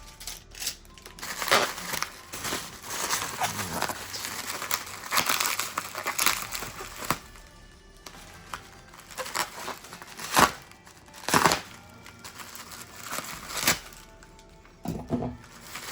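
Packaging from HO scale model trains, bought at auction, crinkles and crunches for a long stretch during an unboxing, with irregular rustling and several louder crisp crackles and tearing bursts close by.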